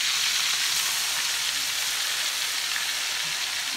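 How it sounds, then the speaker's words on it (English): Shrimp sizzle and fry in preheated hot grease for seafood rice, a loud, steady, dense crackling hiss that fills the whole stretch with no talking. "I have my shrimp that I'm gonna drop up in this grease back here that I had preheating and cooking"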